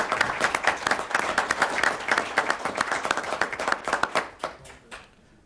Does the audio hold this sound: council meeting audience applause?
yes